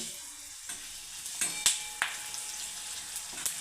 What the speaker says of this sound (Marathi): थोडेसे भाजून घ्यायचे खडे मसाले नंतर तमालपत्र घालू धने घालायचे